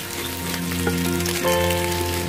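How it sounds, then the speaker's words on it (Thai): Canned fish stir-fried with egg in a pan for fried rice, crackling sizzle that swells slightly midway, close and steady with no voices. "ค่อยๆผัดนิดนึงนะคะ ให้ปลากระป๋องโดนความร้อนนะคะ"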